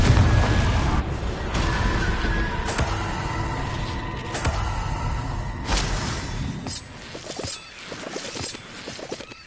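Confringo blasting spells cast in Hogwarts Legacy, several sharp bursts and booms spaced a second or two apart over rumbling game noise and clicks, loud at first and easing toward the end.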